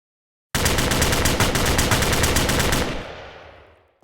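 Rapid automatic gunfire in the video game DeathMatch, a loud burst of fast rhythmic shots lasting over two seconds before fading out, with no talking.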